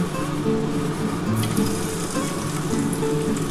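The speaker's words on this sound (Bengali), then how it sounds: "ঘি গরম হয়ে গেছে এবার আমি পনিরগুলো দিয়ে দিচ্ছি" Paneer pieces go into hot ghee in a kadai and fry with a continuous, close sizzle and bubbling crackle, with no talk.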